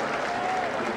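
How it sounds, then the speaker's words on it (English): A big baseball crowd in Toronto gives a sustained ovation, steady broadband applause and cheering filling the stadium at an even level for the whole second. "he receives a huge ovation from this crowd in Toronto"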